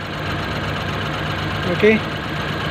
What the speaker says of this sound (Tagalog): Patayin natin yung makina.